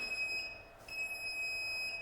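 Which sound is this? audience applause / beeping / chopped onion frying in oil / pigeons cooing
beeping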